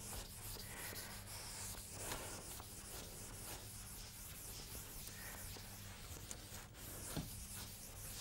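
A chalkboard is rubbed clean with steady, continuous scrubbing strokes, a soft, close, dry brushing texture that carries on for several seconds without speech.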